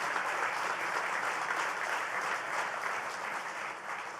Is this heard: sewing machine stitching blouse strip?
no